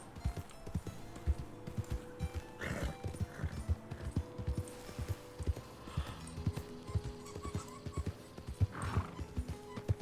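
A horse's hooves clip-clop in a steady, fairly close rhythm, broken by a couple of whinnies, with light low rumble in the background.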